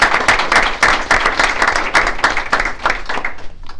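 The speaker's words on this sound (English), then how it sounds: "So let's give those two a big round of applause." Audience clapping at a Watertown school board meeting for staff award winners, a brisk, close burst of many hands that lasts a few seconds, with some uneven peaks and a gradual thinning toward the end.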